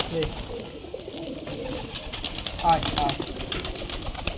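A flock of Giribaj pigeons on a farm coos at feeding time over scattered wheat, rice and maize. Soft, low coos come from nearby while a man calls to the birds.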